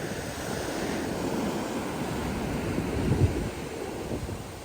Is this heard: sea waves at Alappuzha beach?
yes